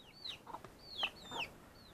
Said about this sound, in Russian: Курица высидела трех цыплят, вот они уже большенькие, оперяются.